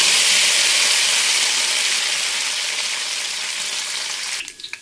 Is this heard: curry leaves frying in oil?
yes